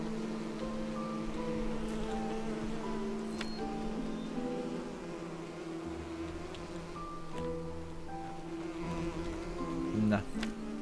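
Bees buzz close by in a Skyrim game world, overlapping drones rising and falling as insects hover and pass, with soft ambient background underneath.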